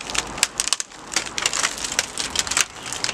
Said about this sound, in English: All right, let's take the screen off.